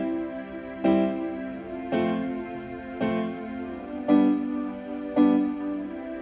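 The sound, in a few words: Lowrey organ harmonic and rhythmic chords played together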